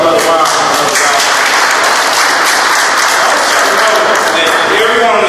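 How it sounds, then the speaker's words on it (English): Steady, loud audience applause fills a town hall meeting on disaster preparedness in St. Louis, dense clapping from a crowd continuing without a break. "So let's give our Brother Ron a round of applause."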